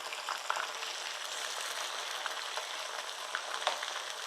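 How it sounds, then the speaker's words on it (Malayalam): Chicken pieces deep frying fully submerged in hot oil, a dense continuous close sizzle and crackle with occasional sharper pops, steady and even throughout with no talking. "ശരിക്കും ഇത് ഡീപ് ഫ്രൈ ആണ് വേണ്ടിയത് നല്ലപോലെ മുങ്ങി പൊരിയണം നമ്മുടെ എണ്ണ നന്നായിട്ട് ചൂടായിട്ടുണ്ട്"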